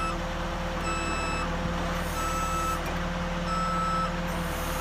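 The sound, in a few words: HA130RTJ lift lowering its front axle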